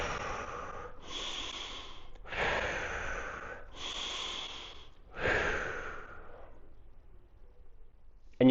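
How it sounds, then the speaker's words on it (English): Close, breathy inhales and exhales follow a breath-hold exercise, about five quick puffs spaced roughly a second apart, then quiet. "then you just do like about 3 more little breaths"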